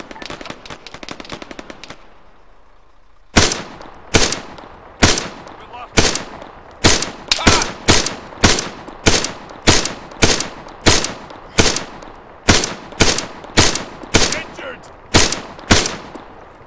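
Video game gunfire in a combat shooter: a short rapid burst, a brief pause, then a long run of loud, evenly spaced single shots, each with a sharp crack and a short tail.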